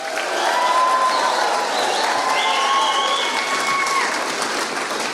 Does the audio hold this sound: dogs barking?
no